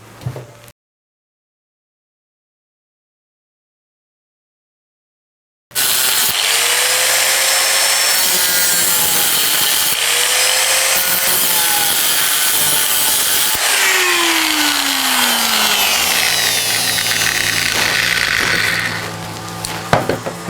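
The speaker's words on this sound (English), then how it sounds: "I'm just going to cut off these sort of bits that the original seat I was fixed to" Power saw cutting through welded metal seat mounts on a recumbent bike frame: after a brief knock and several seconds of silence, a loud, sustained grinding cut runs about fifteen seconds with pitch shifts and squeals, then ends in a few clanks.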